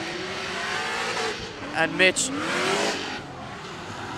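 Pro drift car driven by Mitch Larner in an IDC 2017 pro qualifying round, engine roaring loudly as it holds a big angle, with brief sharp tire squeals midway and a commentator speaking over it.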